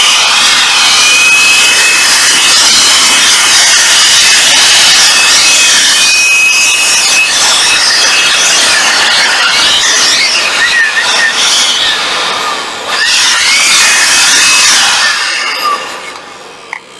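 A Makita 14.4V cordless dust blower running at speed 3 gives a loud, close, continuous high-pitched whine and rush of air. It holds steady, dips briefly, then winds down at the end.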